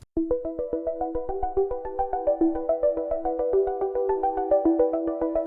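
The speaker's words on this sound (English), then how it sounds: "Intro music now." Podcast intro music plays alone, a quick plucked, bell-like melody of evenly spaced notes in a steady bouncing rhythm at moderate volume.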